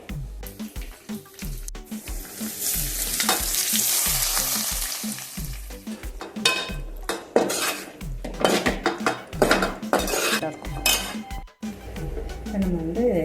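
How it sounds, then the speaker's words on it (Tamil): Cabbage tempered as thalippu in a frying pan: loud oil sizzle and crackle, with metal spoon scrapes and clinks against the pan coming in bursts, and intermittent talk over the cooking. "இப்போ நம்ம வந்து கேபேஜையும் தாளிச்சிடலாம்"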